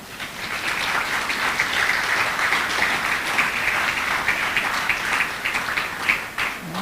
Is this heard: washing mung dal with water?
no